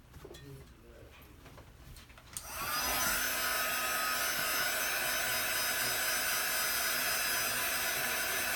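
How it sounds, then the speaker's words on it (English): A heat gun blows over a chalk transfer, starting abruptly after a few seconds of quiet room noise and then roaring steadily and loudly to the end. "we're going to run some heat gun over this"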